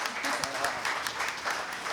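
An audience applauds for muralist José Lott at an event honoring an artist, a steady, moderately loud wash of clapping that lasts a couple of seconds.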